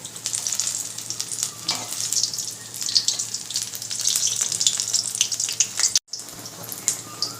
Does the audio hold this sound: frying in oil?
yes